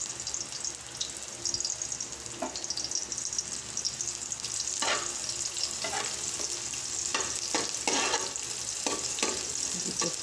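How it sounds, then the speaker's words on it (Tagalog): Onions and garlic sizzle and crackle in a hot pan for pancit bihon, steady frying hiss with repeated scraping stirs of a utensil, close up with no talking. "lalagyan na natin ating sibuyas at bawang. At tayo'y magigisa na."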